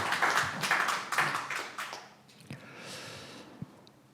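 Applause at a Korean parliamentary association's founding meeting and chairman's inauguration, a burst of clapping that fades after a couple of seconds into quiet room tone with a few stray claps.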